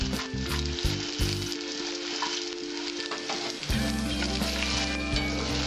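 Small-fish curry spices, turmeric and chili powder, fry in hot oil with a loud, steady crackling sizzle, broken by occasional stirring scrapes, with no one speaking.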